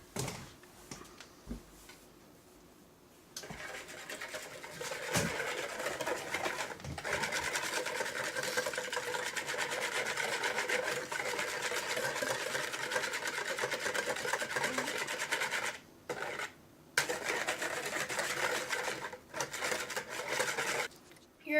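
Electric mixer whipping cake batter in a home kitchen, a steady loud whir running continuously for most of the time, with two short pauses near the end and quieter handling at the start.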